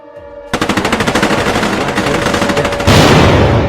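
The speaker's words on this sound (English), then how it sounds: "suddenly the 10 anti-air guns open up." Anti-aircraft guns open fire during an air raid, a loud rapid string of evenly spaced shots that swells into a dense continuous roar of gunfire.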